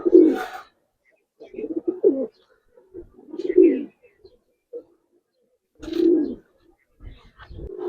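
Giribaz pigeons coo in a loft in several separate low, throaty bursts spread over a few seconds, close and fairly clear with quiet gaps between calls.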